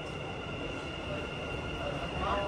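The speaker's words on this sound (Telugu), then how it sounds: "ఇదిగోండి నేను ఎక్కాల్సిన మెట్రో అయితే వచ్చేసింది." A Dubai Metro train pulling into the station, a steady low rumble and hum with a faint whine, building slightly toward the end amid station ambience.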